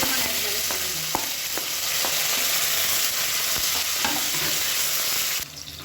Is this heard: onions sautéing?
yes